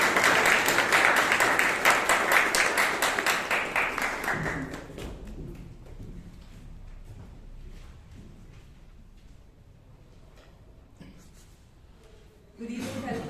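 Room applause at a Toastmasters club meeting in Bangalore for a past president coming up to give a speech evaluation. Full clapping for the first few seconds, then it quickly dies away into quiet room noise and a few stray sounds.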